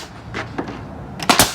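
A nail gun fires into ripped trim boards wrapped around a house detail, a few sharp pops spaced apart with two louder shots close together near the end, heard up close with no talk.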